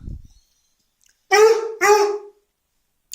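Two loud, close dog barks in quick succession, each harmonic and sustained, preceded by a faint low rumble and followed by a tiny click.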